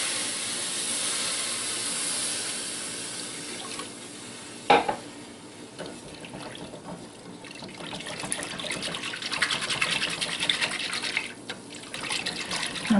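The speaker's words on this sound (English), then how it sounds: "Now I start adding my milk." Milk poured into a copper pan of crumbly roux for nun's toast, giving a steady close sizzle and liquid trickle with a sharp clink partway through and the frying growing busier toward the end, no voices.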